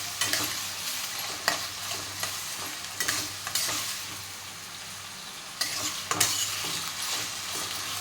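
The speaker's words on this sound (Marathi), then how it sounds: "बटाटा टाकून झाला की आपण त्याला एकदा नीट परतून घेणार आहोत" Potatoes being stir-fried in a pan for sabudana khichdi, a steady close sizzle and frying hiss broken by several sharp scrapes and stirs of a spatula against the pan, with no talking.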